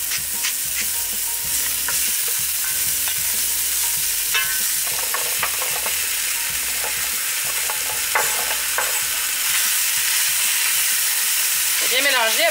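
Squash soup ingredients stirred in olive oil in a pot give a loud, continuous sizzle with scraping stir strokes, heard up close with no talk.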